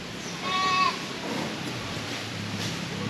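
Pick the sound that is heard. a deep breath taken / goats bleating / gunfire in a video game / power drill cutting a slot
goats bleating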